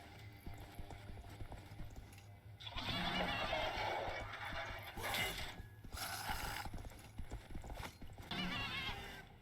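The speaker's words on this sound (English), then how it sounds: "This will go ahead and spawn in the demon goat." A demon goat spawning in the Sker Ritual video game gives loud, harsh, snorting bursts over a steady low hum, in several separate blasts.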